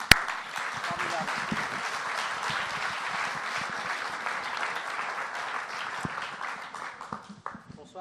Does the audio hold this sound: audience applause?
yes